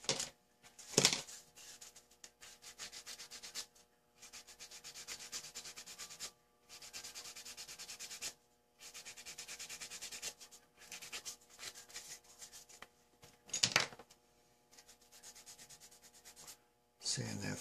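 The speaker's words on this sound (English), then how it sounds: "Sand that flesh." Close, soft scratchy sanding on a small painted figure, in short bursts separated by pauses and with no talk.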